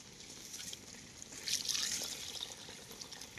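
Hot water is poured into frying young goat meat in a pan, a faint trickling pour with a soft sizzling hiss that swells briefly in the middle.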